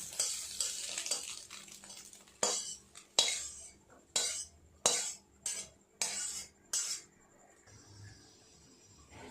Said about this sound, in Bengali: নিয়ে কড়া পরিষ্কার করে আবার চাপিয়ে দেবে।